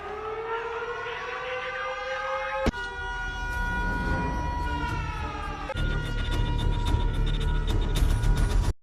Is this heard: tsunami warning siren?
yes